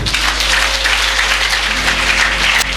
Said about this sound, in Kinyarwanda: Mwese mupige ikiganza hano.